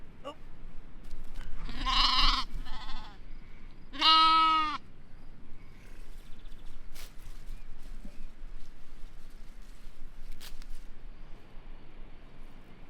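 Young goats on a village farm give two distinct, wavering bleats close by, one near the start and a longer one a few seconds later, with soft rustling and faint ambient noise between them.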